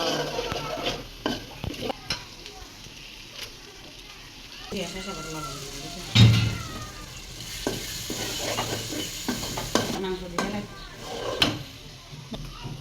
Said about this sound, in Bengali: এখন দিয়ে দিচ্ছে সিদ্ধ করে রাখা মাংস